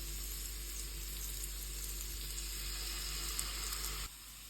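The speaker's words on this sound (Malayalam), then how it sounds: "ഒരു പാൻ ചൂടായിട്ട് ബട്ടർ ഇട്ടിട്ട് നമുക്ക് ഈ ആപ്പിൾ ക്യൂബ്സ് ആയിട്ട് കട്ട് ചെയ്ത് നമുക്കൊന്ന് കാരമലൈസ് ചെയ്തെടുക്കണം" Diced apple caramelizes in butter in a hot pan, a steady, close sizzle that holds evenly before cutting away suddenly near the end.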